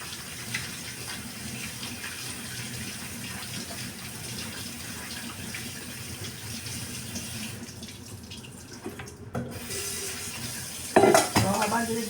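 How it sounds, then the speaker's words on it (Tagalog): Water runs and splashes in a kitchen as meat is drained, a steady close rush with clinks of a pot or dish and a sharper clatter near the end. "habang dinidrain natin itong karne"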